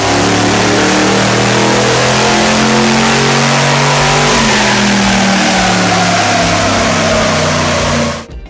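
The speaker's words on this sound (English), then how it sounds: "The 80 series hit the dyno and made some impressive numbers" A V8 Toyota Land Cruiser 80 Series makes a loud, close, sustained rev on a dyno, the engine climbing steadily in pitch before cutting off abruptly at the end, with no talk.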